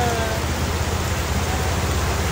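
Heavy rain pours steadily in a dense, loud, unbroken hiss, with no voices present.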